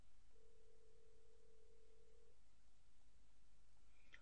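A single steady electronic ring tone sounds faintly for about two seconds over a low hum, then a brief chirp near the end.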